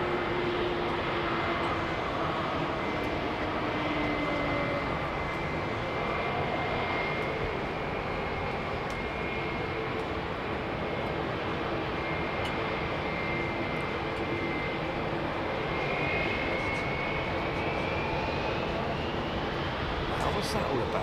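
Airbus A350 jet engines at Heathrow Airport roar steadily and loudly for the whole stretch, a broad rushing drone with a high whine rising toward the end as the aircraft moves up to the line.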